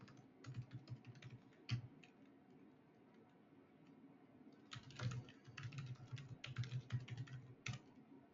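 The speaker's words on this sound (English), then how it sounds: "So we can start by just typing in email addresses." Email addresses being typed on a computer keyboard, with quick irregular bursts of key clicks separated by short pauses, close and clear in a quiet room.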